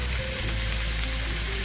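Onions, garlic and ginger sautéing in hot oil for a chicken roast, a steady close, loud sizzle and crackle with no talking.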